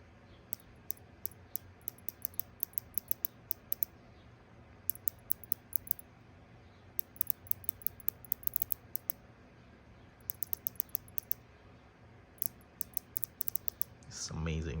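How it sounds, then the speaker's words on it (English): Unidirectional bezel on a Rolex Submariner Date 126610LN being turned, giving bursts of crisp, rapid metallic clicks in several runs with short pauses between, close and clear over a quiet background. "the most beautiful thing of this one is the unidirectional bezel and the clicks"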